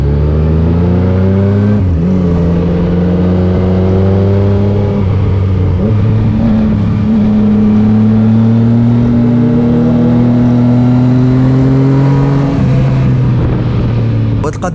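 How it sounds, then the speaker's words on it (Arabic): A car engine drones steadily while driving, its pitch climbing through gear changes, heard loud and close from inside the vehicle. "اللي كيبغيو يسمعوا الصوت ديال الموتور"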